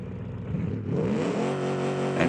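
V8 engine of a Kiev Motors car in BeamNG revving up, a loud close rising roar that climbs steadily in pitch and holds high.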